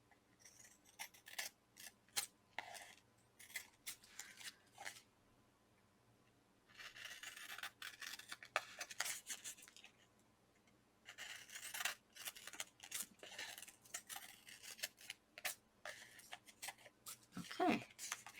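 Long scissors snip and slide along the edge of washi tape on a paper card, in bursts of crisp close cutting separated by short quiet pauses.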